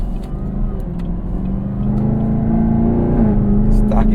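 Chevrolet ZL1 Camaro with stock exhaust and 10-speed automatic accelerating, a loud deep engine drone climbing in pitch before a shift, heard from inside the cabin with a voice speaking over it.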